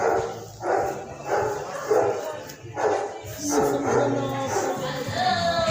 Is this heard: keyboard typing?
no